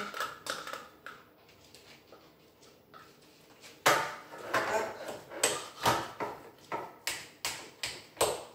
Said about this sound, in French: Donc voilà, on va encore remuer.